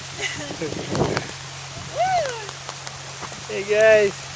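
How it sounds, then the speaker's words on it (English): Warm rain falls steadily outdoors with a soft patter throughout, while voices speak briefly in the middle and toward the end. "Wow, finally some rain"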